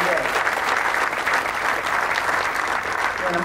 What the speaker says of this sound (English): How about a round of applause for that great McConville family